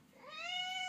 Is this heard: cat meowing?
yes